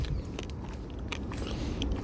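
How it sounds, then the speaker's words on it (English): Hackberry seeds are cracked and chewed close up, giving quiet irregular crunching and crackling clicks over a dull steady background. "crack the seeds, chew them up."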